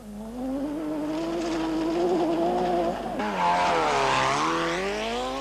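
A 1988 Nissan International Rally car revs hard as it launches away at the start of a special stage, the engine note climbing and dropping through gear changes, loud and close with no talk over it.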